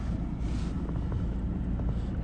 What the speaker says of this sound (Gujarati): જોરદાર પવન હે